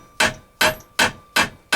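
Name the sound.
8-ounce hammer striking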